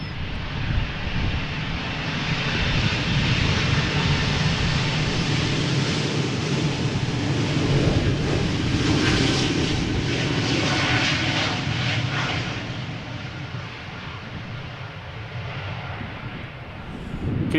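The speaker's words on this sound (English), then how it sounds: "KLM flight 1145, E2 Embraer 195 going to Oslo" A one-year-old KLM Embraer E195-E2 jet departs for Oslo, a loud, continuous engine roar with broadband rushing noise that swells and then eases slightly, heard from outside at the airport.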